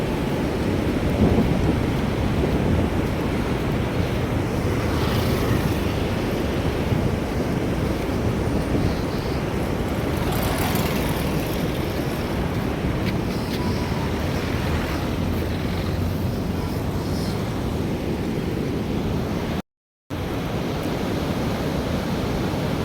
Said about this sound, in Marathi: पुलाच्या किती जवळ पाणी आपण इथं पाहू शकतो बघा पाण्याचा प्रवाह